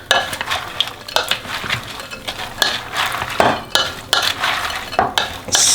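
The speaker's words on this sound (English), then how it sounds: "Now you mix the stout beer in there and the dark rum. And now just give it a stir." Christmas pudding mix with stout beer and dark rum being stirred in a bowl, a series of wet squelching strokes with occasional clinks of the spoon, close and fairly loud.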